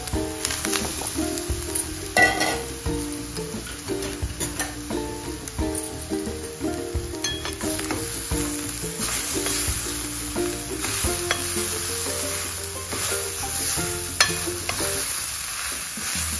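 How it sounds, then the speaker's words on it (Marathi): Fresh grated coconut fried in ghee for a sweet coconut barfi, giving a steady close sizzle with stirring scrapes throughout and faint background music, no voices. "त्याच तुपामध्ये आपण खोबरं छान परतून घेणार आहोत।"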